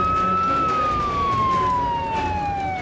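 A fire engine siren as firefighters arrive, one loud, steady tone that slowly drops in pitch over a low road rumble, with no talk.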